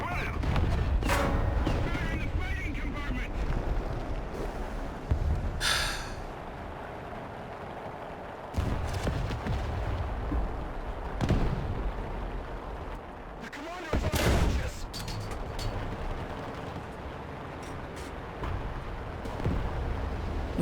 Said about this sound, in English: Was that artillery?